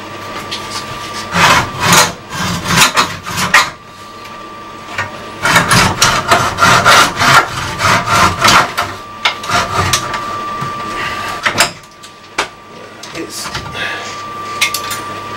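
A blunt hand saw grinds through wood in loud, close, rasping bursts of rhythmic strokes, with a couple of brief pauses between runs and no talking over it.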